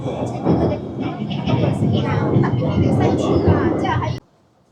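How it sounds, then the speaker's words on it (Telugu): A metro train in Guangzhou rumbles steadily from inside the carriage, a loud continuous low roar with faint rail rattle and a person talking over it, cutting off abruptly near the end. "ప్రజెంట్ వచ్చేసి మనం మెట్రోలో ఉన్నాం"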